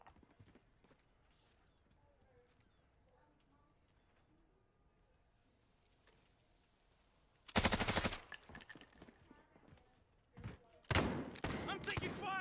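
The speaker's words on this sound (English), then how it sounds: "I'm taking fire!" In a Call of Duty match, a quiet stretch gives way to two loud bursts of rapid automatic gunfire close by, the second running to the end, with voices talking underneath.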